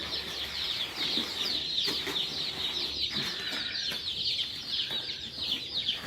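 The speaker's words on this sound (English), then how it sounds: "We have chicks and ducks and turkeys." Chicks, ducklings and turkey poults crowded in a shipping box in a poultry barn give a dense, continuous chorus of high peeping and cheeping, steady and close throughout with faint rustling underneath.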